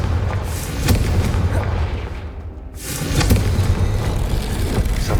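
A Confringo spell blast in Hogwarts Legacy lands as a booming burst over a continuous rumbling combat din. It briefly dips quieter, then surges back with renewed roaring impact and crackling.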